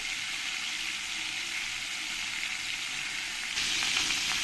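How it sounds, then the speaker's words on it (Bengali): Silver carp pieces fry in hot oil in a pan, giving a steady, close sizzle with a fine crackling hiss throughout that grows a little louder and busier near the end. "বেশি কড়া করে ভাজতে হবে না একটু হালকা কালার এলে এই মাছ ভাজাটা হয়ে যাবে"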